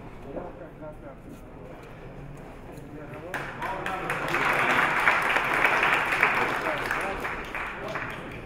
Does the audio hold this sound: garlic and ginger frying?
no